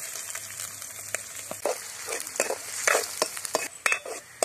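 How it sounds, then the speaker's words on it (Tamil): Onions sauté to golden in a pan for a green country chicken gravy, a soft sizzle under repeated spatula scrapes and taps that grow louder and busier toward the end. "வெங்காயம் நல்லா வதங்கிடுச்சு கோல்டன் கலர் ஆயிடுச்சு"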